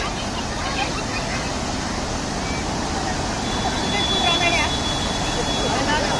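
A flooded river in Nepal rushes past as a steady, loud broadband roar from start to finish, with excited voices shouting over the water.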